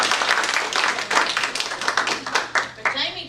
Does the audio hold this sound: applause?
yes